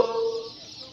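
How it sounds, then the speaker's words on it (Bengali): Fancy mixed-breed chicks, Silkie, Polish cap and Frizzle, give one short close peeping call that fades quickly over a faint background. "এগুলো ফ্যান্সি মুরগির বাচ্চা। এর মধ্যে রয়েছে সিল্কি, পলিশ ক্যাপ, ফ্রিজেল, এগুলো একসাথে মিক্স।"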